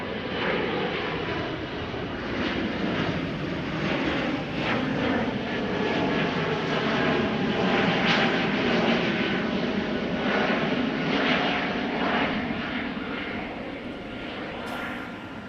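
Airliner departing from a runway at Amsterdam Schiphol, a loud, sustained engine roar that swells to a peak midway and then slowly eases as it climbs away.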